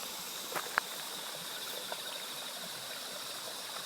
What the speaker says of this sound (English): Isn't this nice the way the water goes down this channel?